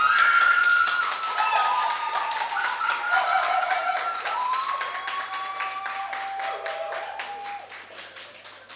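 Supporters of the Statistical Institute of Jamaica team cheer, whistle and clap steadily after a competition round is decided, a dense crowd roar with sustained whoops and tapping applause throughout.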